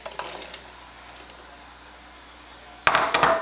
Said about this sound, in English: all I'm going to do is just keep spreading these around in the oil while it's heating up